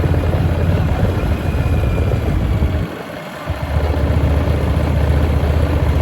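A Harley-Davidson Street XG750 motorcycle rides along a road in southern Japan, its engine a steady, loud low drone with heavy wind rush that dips briefly midway, then resumes evenly.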